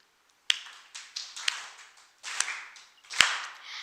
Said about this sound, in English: Everyone clap a slow beat with me.